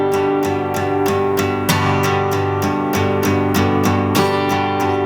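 An acoustic guitar strums steady bass-note patterns, with all six strings ringing out as a fuller accent on beat one of each bar, loud and close with no talking.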